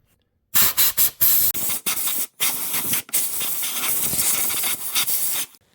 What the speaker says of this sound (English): I'm gonna clean this area with compressed air to make sure that no dirt can enter the fuel line.